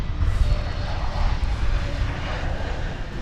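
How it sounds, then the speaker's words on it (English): An Airbus A320 airliner, Flight 2910 bound for Spokane, is at DFW Airport. Its engines give a steady, moderately loud broadband roar with heavy low rumble that stays even throughout. "This is Flight 2910. It's going to Spokane. It's an Airbus"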